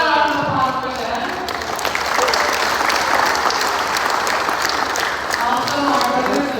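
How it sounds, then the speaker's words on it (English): A loud, sustained round of applause from a church youth gathering crowd in Long Beach, dense clapping with a few voices and cheers mixed in, continuing steadily from start to finish. "how about a round of applause for them?"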